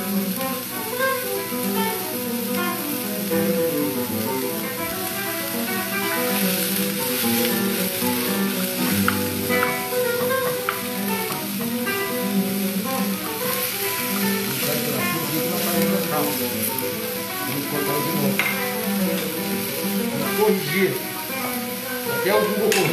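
Onion frying in a pot as the base for borscht, Russian beet soup: a steady, continuous sizzle and crackle runs close and fairly loud throughout, with occasional stirring and a voice speaking over it.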